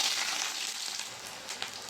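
Onions hit hot white oil in a wok while cooking veg chowmein, giving a steady, fairly quiet sizzle with no talking.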